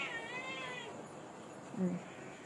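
A cat gives a single drawn-out meow near the start, clear and close, followed by quieter background noise and a brief low sound toward the end.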